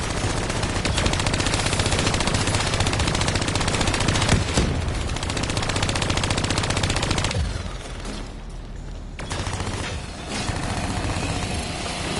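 Sustained turret machine-gun fire in Call of Duty Black Ops 3 hammers on loud and continuous, with a brief dip in intensity before the rattling bursts return.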